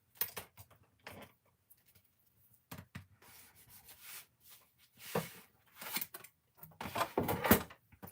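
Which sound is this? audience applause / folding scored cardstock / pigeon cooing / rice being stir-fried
folding scored cardstock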